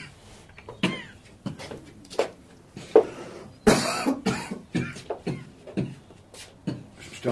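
Repeated coughing, a long series of harsh, close coughs in irregular bursts, with one loud rasping fit partway through.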